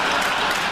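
A television studio audience applauds and cheers a send-off, producing a dense, steady wash of loud clapping with no gaps.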